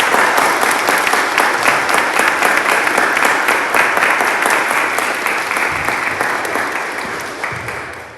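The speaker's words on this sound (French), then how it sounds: "Accueillons-la par une acclamation." A church congregation at a Protestant Sunday service claps steadily to welcome a newly baptized woman, a dense sustained round of applause that slowly tapers toward the end.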